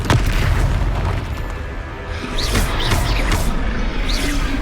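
Confringo fire spell blasts in the Hogwarts Legacy video game, a dense, loud booming roar that is sustained through the whole stretch, with crackling bursts layered over it and no clear gaps.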